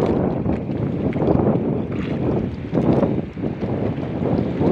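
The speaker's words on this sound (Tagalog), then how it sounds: "Mahangin tsaka maalon." Strong wind buffets the microphone at sea while rough waves slap and wash against a small boat, a loud, continuous gusty roar with surging swells.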